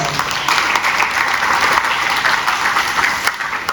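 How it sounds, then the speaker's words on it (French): Steady, loud applause from an audience at an academic ceremony honouring doctoral graduates, sustained clapping throughout with no speech. "on va acclamer"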